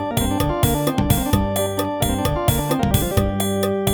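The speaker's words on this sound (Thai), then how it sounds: "อันนี้เสียงออแกนครับผม" Bright organ tones from a Casio CTK-671 electronic keyboard play a lively tune with chords and a steady accompaniment pattern, clear and close with no talking.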